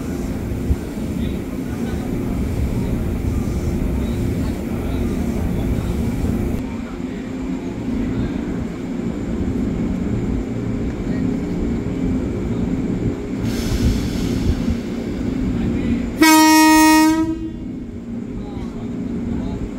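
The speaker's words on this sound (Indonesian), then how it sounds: "Persiapan berangkat jalur 12 tujuan Bogor yang akan diberangkatkan terlebih dahulu" A KRL commuter train, with JR 205, TM 6000 and Tokyu 8500 sets in service, departs platform 12 at Manggarai station, Jakarta, bound for Bogor. A steady rail rumble runs throughout, then a loud tonal horn or chime sounds near the end.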